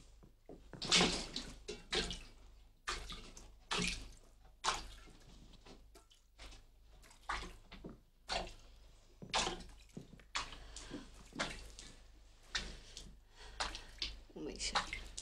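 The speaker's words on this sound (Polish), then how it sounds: "przestańcie wychlapywać tę wodę, nie jesteście sama w tej celi" Water splashed and sloshed in a prison cell during washing, with intermittent splashes and drips in uneven bursts while voices talk over the scene.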